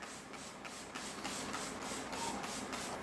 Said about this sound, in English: you need to spray plenty of lubrication on the panel